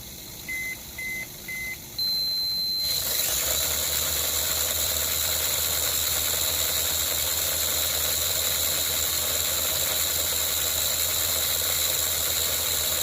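Three short beeps, then a Mini-Z RC car's PN70 motor spins up a slightly larger wheel with a 9-tooth pinion on a speed dyno, holding a loud, steady high-pitched whine throughout.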